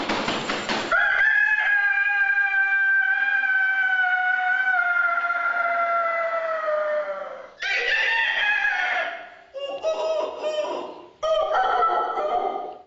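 A man imitates a rooster crowing with his voice, a long drawn-out crow followed by several shorter, choppy crowing bursts, loud and close with no other sounds.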